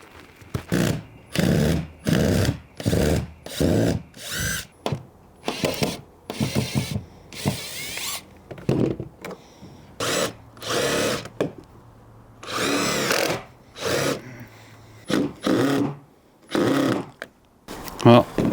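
A power drill works old, ten-year-old screws out of garden boards in a long series of short, close, loud whirring bursts separated by brief pauses.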